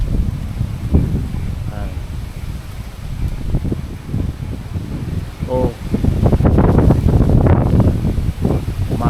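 Strong typhoon wind from Typhoon Kristine roars and buffets the microphone in steady loud gusts, with trees thrashing around mango and guava trees, while someone speaks over it.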